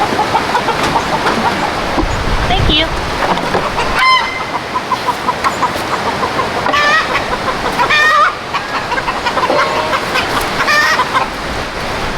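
Chickens cluck and squawk continuously in a loud, crowded coop, with a few sharper cries cutting through the constant background.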